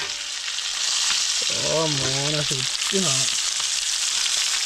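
Fish pieces fry in a pan with a loud, continuous close sizzle that carries through the whole stretch, while a voice briefly talks over it in the middle.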